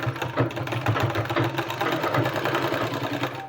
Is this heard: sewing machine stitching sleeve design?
yes